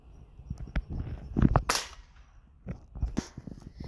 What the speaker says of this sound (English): so we're shooting it. Shooting the can.